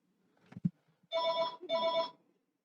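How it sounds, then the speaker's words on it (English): A telephone rings indoors in two clear, tonal electronic bursts after a couple of soft knocks, heard alone in an otherwise quiet room. "there goes the phone."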